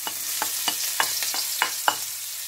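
Mushrooms going into a pan of hot virgin olive oil give a steady frying hiss broken by about eight sharp clinks and scrapes of stirring, close and moderately loud, with no one talking.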